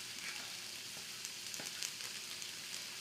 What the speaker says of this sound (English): the onions you can hear sizzling away